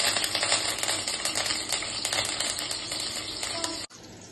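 Chicken with skin frying in oil in a home kitchen with curry leaves: a dense, steady crackling sizzle with small clinks runs for about four seconds, then cuts off abruptly to a quieter hiss.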